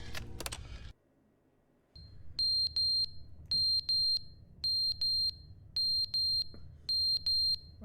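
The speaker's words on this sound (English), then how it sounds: "Where's that beeping coming from?" Electronic beeping from The Stanley Parable: Ultra Deluxe: after a short burst of noise and a moment of quiet, a sharp, high double beep repeats at regular intervals, clean and loud, over a low background hum.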